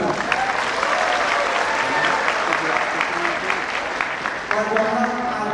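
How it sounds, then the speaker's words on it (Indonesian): Applause from the audience at a pharmacy vocational school graduation ceremony in Jakarta: a full, sustained roar of clapping filling the hall, with crowd voices mixed in beneath it. "Ya, tepuk tangan."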